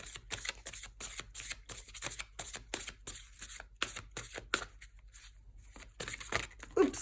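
Numerology tarot cards shuffled, handled and drawn at close range, giving a run of quick crisp riffling bursts and flicks with short pauses, and a brief voice near the end.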